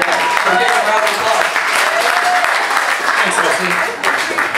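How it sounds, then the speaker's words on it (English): Audience applause after a thank-you at a live student guitar performance, clapping and some voices filling the room steadily. "thanks to my guitar teacher, Rob Hampton, for coming up here for a round of applause."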